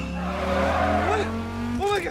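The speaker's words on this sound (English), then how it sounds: "roaring engines" Engines roar loudly and tires squeal in a car chase, with sweeping rising and falling pitch and a sustained close, heavy engine sound that swells toward the end.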